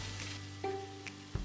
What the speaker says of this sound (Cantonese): 平底鑊燒熱咗之後，就可以加入撈好粉嘅排骨落去